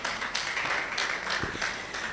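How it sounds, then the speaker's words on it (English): An audience claps together at a women's conference, a steady soft patter of many hands lasting about two seconds. "I was thinking it would be a good place to clap."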